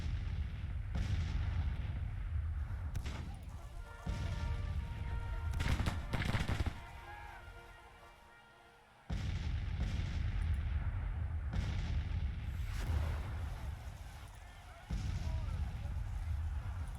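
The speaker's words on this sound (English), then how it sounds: "All our artillery is doing their thing here." Artillery fire rolls through a Grand Tactician battle as repeated deep booming blasts at irregular intervals, heavy and sustained, with a voice speaking over parts of the barrage.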